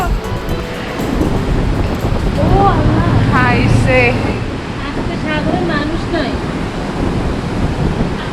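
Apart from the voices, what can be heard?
sea waves seen from a hotel balcony in Cox's Bazar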